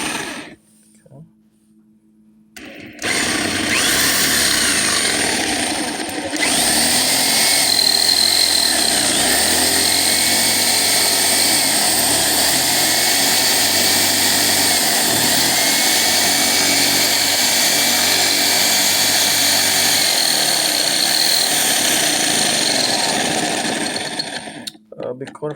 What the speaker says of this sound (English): Okay, now I have drilled this out